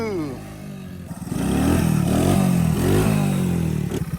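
A Honda three-wheeler engine revving under throttle, rising and falling engine tones with some clatter, mixed with voices talking nearby.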